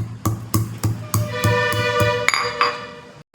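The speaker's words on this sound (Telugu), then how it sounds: "ఈ రాయిలో వేసి అది పప్పు ఉడికేలోపు మనం మిరియాలని కచ్చాబెచ్చ దంచుకుందాం" Black peppercorns are coarsely pounded in a stone mortar while dal cooks for an oats pongal, giving about ten close, steady thuds with bright clinking overtones at an even rhythm and no talk.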